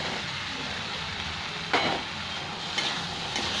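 Pointed gourd (potol), potato and green chillies frying together with spices in oil, a steady soft sizzle with a couple of brief stirring scrapes, close and without talk.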